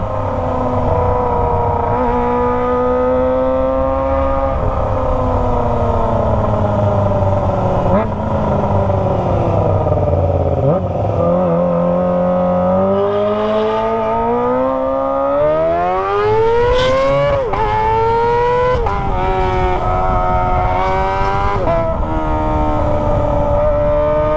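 A Kawasaki ZX25R motorcycle with an aftermarket exhaust revs up and down repeatedly, its pitch sweeping high then falling back, with a wailing, siren-like tone throughout and faint talk underneath.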